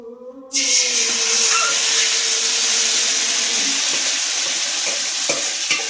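Marinated meat drops into a small, hot wok and bursts into a loud, steady sizzle that hisses on without a break, with no talking over it.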